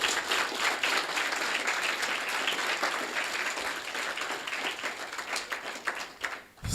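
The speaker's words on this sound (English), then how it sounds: "Let's give them a round of applause," Audience applause at the close of an education event, dense steady clapping from a crowd that continues without pause, then tapers and swells again near the end.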